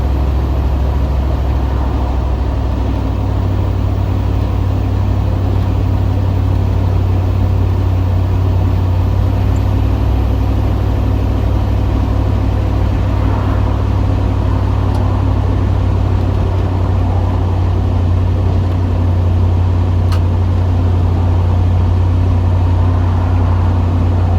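A steady, loud engine drone and road rumble from a car motoring along an Oklahoma highway, heard continuously from inside or close by, with no talk and a constant low hum.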